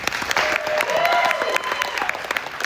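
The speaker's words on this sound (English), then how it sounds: "If you love poetry, applaud." A poetry festival crowd breaks into applause, loud dense clapping mixed with a few cheers and whoops, sustained throughout at close range.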